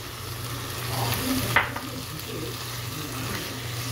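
Minced chicken with tomatoes, ketchup and capsicum sizzles steadily in a pan, with a close, soft crackle and an occasional scrape of stirring.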